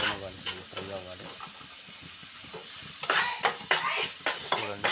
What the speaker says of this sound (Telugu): చూడండి, ఫ్రై అవుతుంది.